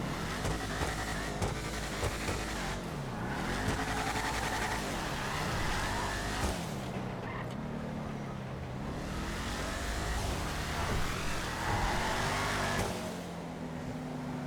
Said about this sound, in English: kind of sounds like every other muscle car a little bit